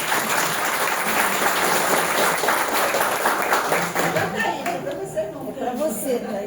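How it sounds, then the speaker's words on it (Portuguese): An audience at a lecture on healthy ageing breaks into dense applause that thins out after a few seconds, giving way to scattered claps, chatter and a voice speaking. "sim, uma salva de palmas."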